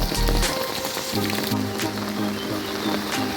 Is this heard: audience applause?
no